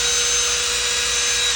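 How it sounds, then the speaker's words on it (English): A power drill drives screws, whining steadily at full speed, loud and close, with a constant high buzzing tone and no pauses. "Drill the screws and mount that sucker."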